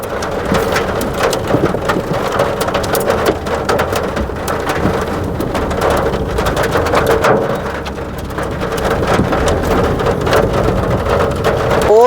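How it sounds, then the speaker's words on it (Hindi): Heavy hail and rain pelting down during a storm near Chopta, a dense continuous drumming of impacts with sharp individual strikes, loud and close throughout with no talking. "बहुत मोटे मोटे ओले गिरने लग रहे हैं भाई।"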